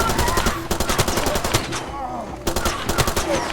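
Automatic gunfire in the video game Far Cry 2: loud, rapid bursts of shots, a sustained volley, a brief lull near the middle, then another burst.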